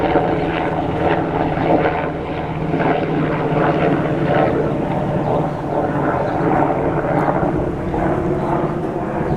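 A helicopter passes overhead, giving a loud, continuous, rumbling engine and rotor drone that holds fairly steady for about nine seconds, with faint voices barely noticeable underneath.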